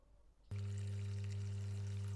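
Water pours steadily into a pot in a home kitchen where rooster feet and giblets are being cooked, a continuous, close rushing stream over a low steady hum, with no talk.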